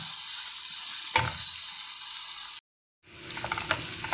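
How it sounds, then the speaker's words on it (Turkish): Onion and capia pepper sautéing for a bean kavurma, a bright continuous sizzle close by, broken by a spoon clack and a brief moment of silence before the frying resumes. "Öncelikle soğanımı, kapya biberimi Şöyle güzelce bir kavuralım arkadaşlar."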